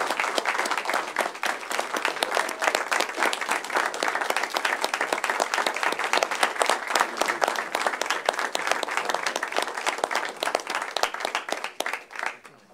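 An audience at a city agenda meeting applauds a retiring employee, a steady, dense wash of many hands clapping that holds for about twelve seconds before tapering off.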